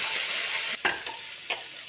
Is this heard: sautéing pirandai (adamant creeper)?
yes